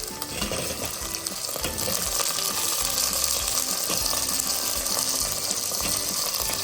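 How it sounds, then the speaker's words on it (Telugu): Garlic and okra pieces fry in oil in a pan for a Telugu okra pulusu, giving a steady close sizzle with scraping stirring noises and occasional clicks, and no talking. "ఇవి కొంచెం ఫ్రై కాగానే బెండకాయ ముక్కలు వేసుకుందాం."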